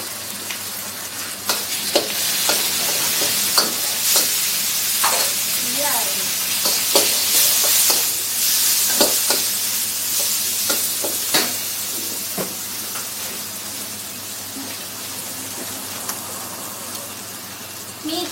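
Chilies stir-fried in a hot pan of oil, giving a continuous close sizzle and hiss with repeated sharp spatula scrapes and clinks, while someone talks now and then over the cooking.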